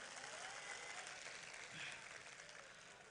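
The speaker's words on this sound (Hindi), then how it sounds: "एक बार ज़ोरदार तालियां बजाकर मुझे दुआओं से नवाजें" A mushaira audience breaks into dense, sustained applause, a steady wash of many hands clapping that stays even throughout and sounds faint and distant.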